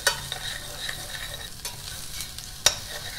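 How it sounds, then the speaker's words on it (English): Prawn shells stir-fried in hot oil for a Thai tom yum goong, with steady close sizzling and scattered scraping clinks of a spatula against the pan, one sharp scrape standing out near the end. "Let the prawn shell turn orange. Okay, keep on stirring it."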